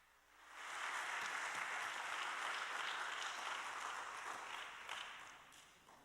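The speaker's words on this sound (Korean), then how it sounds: "큰 박수로 맞이해 주시기 바랍니다." At a school admissions information session, an audience breaks into warm applause to welcome the vice principal, swelling quickly into a dense, sustained wash of clapping that holds steady for several seconds before easing off.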